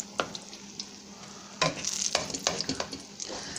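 Chiles rellenos fry in added oil, a faint background sizzle broken by scattered clinks and scrapes of a utensil against the pan, growing busier partway through, with no talk.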